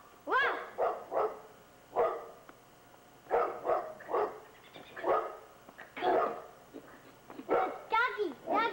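A pet dog barks in short bursts outdoors on a spring day, mixed with a mother's and young child's chatter and excited voices throughout.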